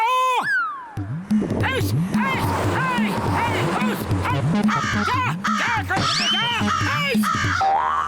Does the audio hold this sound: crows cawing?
yes